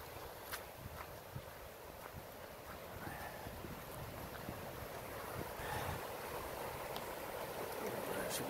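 Wind blowing outdoors at a wildlife sanctuary on a cold, windy day, a steady low rumble and rush against the microphone with faint footsteps and occasional light knocks.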